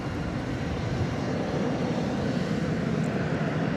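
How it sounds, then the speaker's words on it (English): A Boeing 737-800 arriving at DFW Airport at night, Flight 1467 from Puerto Vallarta, gives a steady, loud broadband jet roar that holds evenly throughout. "The arrival there was Flight 1467 from Puerto Vallarta in Mexico. A 737-800."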